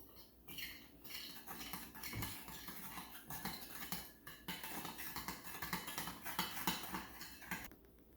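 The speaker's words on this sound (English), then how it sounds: "you can mix it up until it's all mixed" Utensil clinks and scrapes against a bowl as donut batter of flour, salt and sugar is mixed, quick irregular taps and swishes, close but faint.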